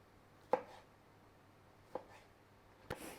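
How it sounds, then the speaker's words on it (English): A knife dicing tomatoes on a board gives three isolated, sharp cuts spaced about a second apart in a quiet room. "I'm just dicing my tomatoes as such."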